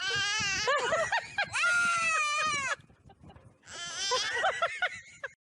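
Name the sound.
goat bleating with child imitating it, in played video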